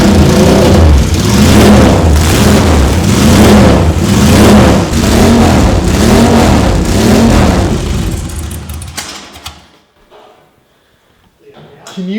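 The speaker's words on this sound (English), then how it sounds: "This is a factory Moto Guzzi race exhaust, which is completely open" A 1979 Moto Guzzi Le Mans motorcycle with a fully open factory race exhaust revs hard and repeatedly with a raw roar, then cuts off abruptly and briefly falls quiet.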